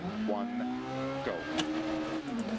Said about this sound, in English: we're up and away and instantly into a load of wheel spin